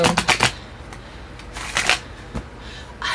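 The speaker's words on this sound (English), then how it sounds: "my shuffling skills, my riffle skills are up to par" A deck of Lenormand cards the size of regular playing cards being riffle shuffled: quick clusters of sharp, close flicks and snaps, then a brief cascading riffle, with scattered light card taps in between.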